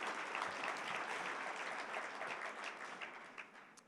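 An audience bursts into sustained applause, a dense wash of many hands clapping at an even level for several seconds and easing slightly toward the end.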